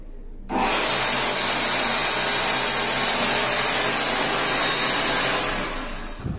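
A touchless hand dryer blows in a steady, loud, broad whoosh that starts suddenly and holds constant for about six seconds before easing slightly, with no voices.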